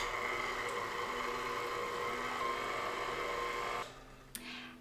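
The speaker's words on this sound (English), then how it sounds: "Now I'm gonna add that to my stand mixer and mix on low just for a minute to incorporate the ingredients." A stand mixer churning sourdough banana bar batter on low, a steady mechanical motor whir with a faint periodic rhythm, then cutting off near the end with a small clunk.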